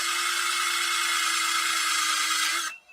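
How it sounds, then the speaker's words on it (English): Power drill boring into the wood of a structure holding a bee colony, reaching for the hive cavity; a steady, loud, close whine runs unbroken for nearly three seconds, then cuts off abruptly. "I'll drill right down here."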